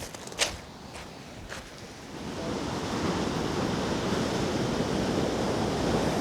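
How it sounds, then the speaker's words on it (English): Sea waves break and splash with spray along the shore, a steady rushing wash that swells and holds loud from a couple of seconds in, after a few sharp footstep-like knocks near the start. "sea breaking over things and stuff splashing up and a bit of spray going on"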